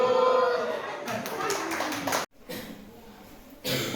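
A classroom group plays the Tepuk cinta clapping rhythm game as an ice-breaker before a group presentation, with sharp, close claps in patterned bursts mixed with voices, a brief pause, then more clapping.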